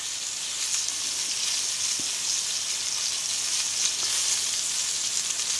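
A chuck-eye steak fries in a hot pan with a continuous, close, bright sizzle, steady in level, with one soft tap partway through and no voices.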